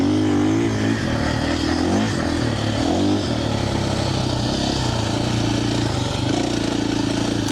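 A 2025 KTM 450 Champion Edition dirt bike rides along a track with steady, loud engine drone under load. Revs waver slightly in the opening seconds, then settle into an even, close-up roar.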